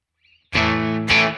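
Distorted electric guitar through the Neural DSP Morgan Amp Suite plugin with vintage-style reverb: two sustained, heavily overdriven chords, the second struck just after the first rings out, each with a smooth reverb tail.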